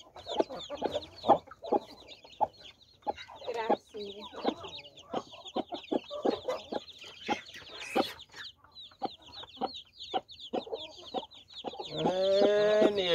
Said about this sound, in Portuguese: Olha que gente, que chique essa galinha aqui.